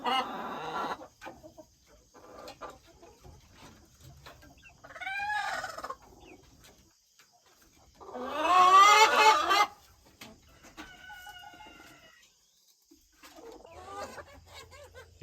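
Chickens cluck and call in short bursts with quiet gaps between, one louder rising squawk near the middle, close by.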